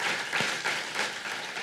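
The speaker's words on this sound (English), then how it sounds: "Let's give Mark a big round of applause." Audience applause at the end of a startup talk at a Startup Grind event in Los Angeles, a steady dense wash of clapping hands filling the room with no voices over it.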